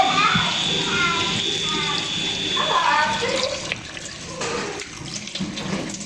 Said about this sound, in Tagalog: Ilagay na natin sa malamig na tubig.